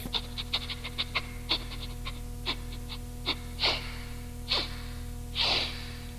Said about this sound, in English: a dog came up and gave him a sniff